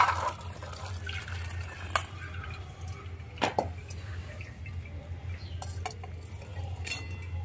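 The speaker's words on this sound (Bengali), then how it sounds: "মটরগুলো জল ঝরিয়ে নেব।" Water is poured off boiled peas, with faint splashing, trickling and occasional clinks against a low background hum.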